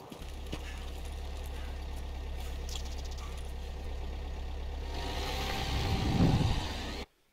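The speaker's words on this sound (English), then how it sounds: "Did Uncle Yosivan just hear a car?" A car engine in Escape from Tarkov rumbles steadily at a distance, a constant low idle-like drone that swells slightly near the end before cutting off abruptly.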